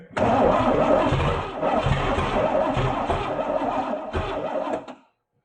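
Engine of a Chevrolet Camaro barn find, idle for 32 years, cranking on the starter for about five seconds, a loud close churning whir that stops abruptly without catching.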